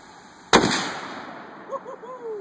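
A single loud, close gunshot from a shoulder-fired gun aimed at a bottle outdoors, a sharp crack with a fading tail, followed by faint birdsong.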